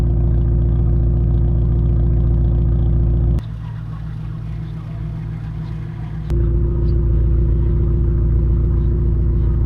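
A 1997 Mitsubishi Lancer GSR cruises on a wet road, giving a steady, loud low rumble of engine and tire noise that dips briefly mid-pass before returning, with no talking.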